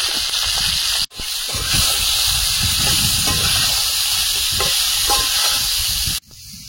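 Bottle gourd dropped into hot oil tempered with black cumin and bay leaf, a loud, close, steady hiss of steam and sizzling that runs for several seconds between two brief cuts.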